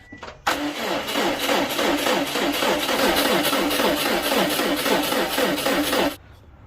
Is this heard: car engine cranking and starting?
yes